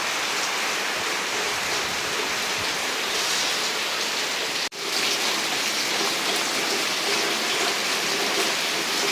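Heavy night-time rain pouring down in Jaffna, a steady dense roar of downpour with no letup, loud and continuous apart from one brief dropout midway.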